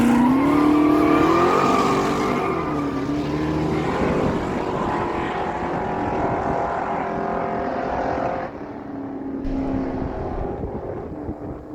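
A 1968 Chevy Camaro with a 454 cubic inch big block roars down a no-prep drag strip, a loud sustained engine howl that rises, drops briefly as it shifts, then carries on strongly.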